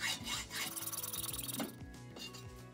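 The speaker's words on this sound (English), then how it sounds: "I finished it off with a hacksaw." Hand hacksaw strokes cutting through a metal part held in a lathe, a quick rhythmic series of close rasping strokes with short pauses between bursts.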